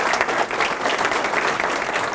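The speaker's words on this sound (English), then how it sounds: "we need to give her another round of applause" Audience giving a round of applause at a community conversation on Hwy 54 and hospital area concepts, dense sustained clapping filling the whole moment.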